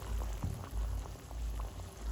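Fish curry bubbles in a pan, a soft, steady simmer of small pops and gurgles, faint and close, with no talk.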